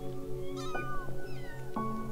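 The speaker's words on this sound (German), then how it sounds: "Das sind aber viele kleine Katzenbabys." Several small kittens meow in high, thin overlapping calls, close by against a steady low background hum.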